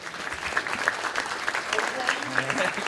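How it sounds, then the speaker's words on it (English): Scattered applause at a school board meeting for a board member asked to stand, fairly light clapping with a few distinct claps, under some indistinct talk and room murmur. "he deserves a few applause here"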